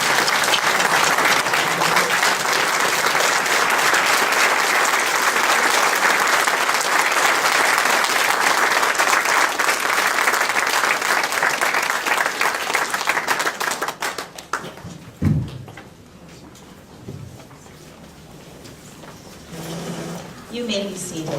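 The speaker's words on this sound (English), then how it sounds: "Let's give all these ladies a standing ovation" A crowd gives a standing ovation for a group of women at a Filipino-American Bataan commemoration, with loud, dense sustained applause for about fourteen seconds before it fades, followed by quieter room noise.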